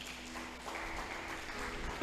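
A church congregation applauds in worship, a soft, steady wash of many hands clapping at a distance, low in level, with a faint murmur underneath.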